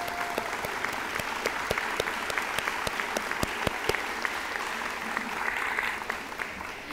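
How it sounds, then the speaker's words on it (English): Steady, dense audience applause from a crowd at a college letter-of-intent signing ceremony, loud and continuous with sharp individual claps standing out, a few faint voices mixed in. "a round of applause for Mr. Jacob Salinas"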